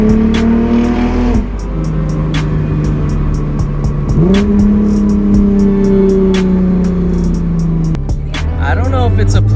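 A car fitted with a throttle controller accelerates hard on a test drive, its engine note climbing loud and close through several gear changes, with rhythmic ticking and road noise running underneath.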